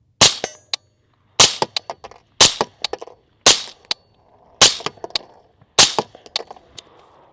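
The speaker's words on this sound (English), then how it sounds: "Let me shoot the steel." A Griffin Armament HRT 556 rifle fires seven sharp, loud shots at a steel target about 50 yards away, spaced roughly a second apart, each followed by a quick ringing clang and brief echo, with no talking.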